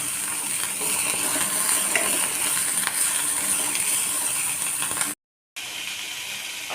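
Broccoli frying in a hot pan: a steady, loud sizzle with crackling bits and occasional stirring, constant for about five seconds, then cutting out briefly before resuming.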